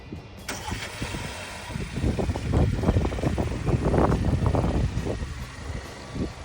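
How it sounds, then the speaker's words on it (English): A 2025 Volkswagen Tiguan SE R-Line engine starting by remote start, with a quick crank and catch that settles into a steady, fairly loud idle rumble close by. "So when you hit the remote start, lock twice."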